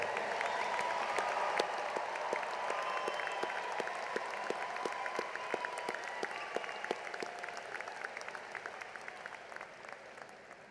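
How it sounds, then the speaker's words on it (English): Sustained applause from a large standing crowd at a Washington State University spring commencement ceremony, steady broad clapping with sharp individual claps standing out, continuing for about ten seconds and slowly fading. "We applaud you all for a job well done."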